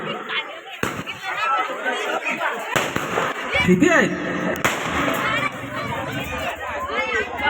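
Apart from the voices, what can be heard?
firecrackers bursting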